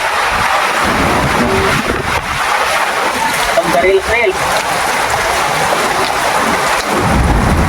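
Heavy storm rain and gusting wind roar loudly and continuously, with people talking faintly underneath.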